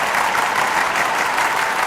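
A comedy show audience for a Gaijatra 2077 stand-up performance in Nepal breaks into dense, sustained applause, loud and even with no talk over it.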